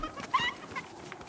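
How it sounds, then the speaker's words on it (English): A chicken in Fortnite gives a brief cluck, a short bright squawk heard once at moderate volume over quiet game background noise. "I'm not gonna kill the chicken."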